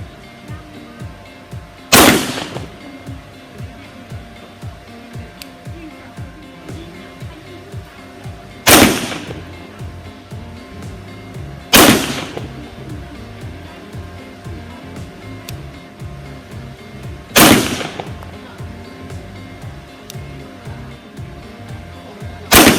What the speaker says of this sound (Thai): มาเดี๋ยวลองทดสอบนะครับตัวปืน บาเดต้า ตัวนี้ครับ92 fs